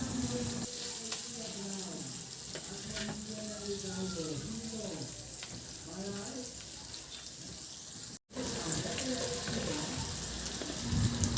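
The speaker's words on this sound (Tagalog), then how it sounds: "Sa disim na kawali, maglagay ako ng butter. Igisa ko na rin yung bawang at sibuyas." Garlic and onion sauté in butter in a pan, giving a steady, soft sizzle that runs continuously with faint kitchen clatter, while a voice talks over it.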